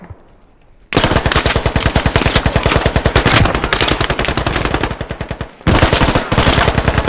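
Loud, close automatic gunfire in the military shooter game Squad, a long rapid stream of shots that breaks off briefly near the end before another burst begins.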